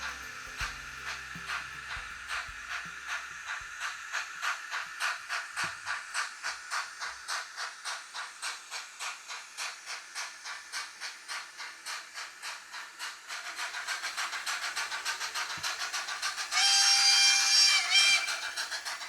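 A model railway Jones Goods locomotive runs with Cadbury's livery vans, giving a steady rhythmic chuffing hiss that speeds into a fast pulse, then softens into smoother running with a brief high whistle near the end.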